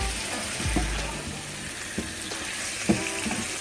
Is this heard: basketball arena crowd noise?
no